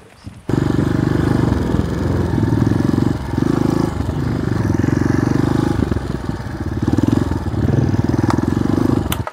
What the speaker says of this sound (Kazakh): Мотоциклмен келе берейік деп осы жерге дейін келдік.